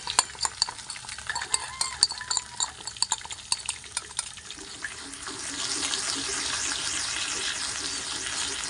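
Squeezed crab fat is poured into a hot pan of browned ingredients, starting with scattered clinks and stirring taps, then settling into a steady, moderately loud sizzle and hiss with no voices.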